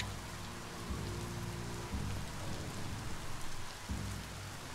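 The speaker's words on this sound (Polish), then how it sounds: "I jeszcze pada deszcz." Steady video-game rain patters across the whole clip, a dense hiss of drops with a low rumble underneath.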